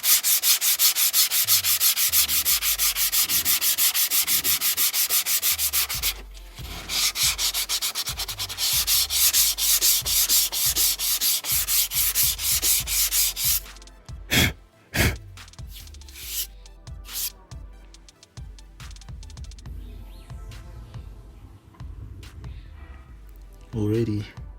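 Hand sanding of fiberglass with an 80 grit sanding pad: loud, rhythmic rasping strokes back and forth, close up, slowing into scattered scrapes and pauses, with someone talking over it.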